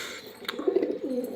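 Jhamar pigeons in a home loft give a few low, rolling coos close by, soft and fairly quiet against faint background noise.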